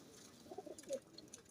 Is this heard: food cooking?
no